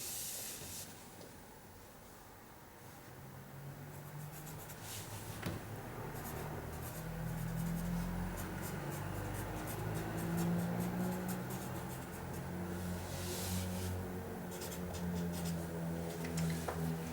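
A pen drawing half-circle skirt pattern lines on paper, with faint scratchy strokes over a steady low hum and hiss, no talking.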